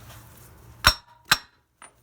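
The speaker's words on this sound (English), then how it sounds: "Now we're going to shock it to loosen it with a piece of wood and hammer." A hammer strikes a wood block held against a CV axle to shock it loose, two sharp, close clanking blows about half a second apart, then a faint third tap.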